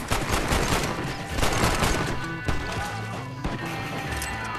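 Rapid volleys of gunfire from a high power pistol in Red Dead Redemption, loud repeated cracks in quick succession mixed with impacts and in-game commotion, continuing densely throughout.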